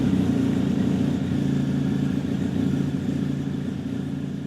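A BMW R1250 GS Adventure motorcycle engine runs at a steady, loud idle with a low, throbbing hum that holds throughout.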